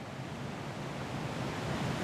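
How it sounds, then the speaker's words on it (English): Open-ocean waves heard from a ferry far from land, a steady broadband wash of water and wind noise, moderately quiet and continuous with no talking. "We're in the middle of the ocean on a ferry."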